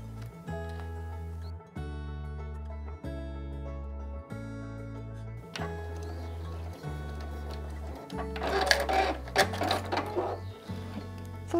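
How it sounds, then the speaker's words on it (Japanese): A sewing machine with a zipper foot stitches a pouch in repeated bursts of rapid mechanical whirring separated by brief pauses, close and clear, with some rustling of fabric near the end. "ファスナー押さえのままですね縫っていきます"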